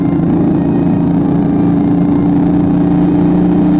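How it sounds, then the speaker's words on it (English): A steady, throaty BMW i8 three-cylinder twin-turbo engine hums and drones at a constant pitch, close and fairly loud, with no voices. "3-cylinder twin-turbo engine spooling up just a few feet behind you"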